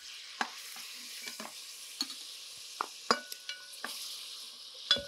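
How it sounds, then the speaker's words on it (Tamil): Mutton cooking on high flame in a pan for a mutton pulao, with a steady sizzle and repeated sharp scrapes and clinks of a utensil stirring the meat. "இதை வந்து நல்லா ஹை ஃப்ளேம்லேயே குக் பண்ணுங்கள்"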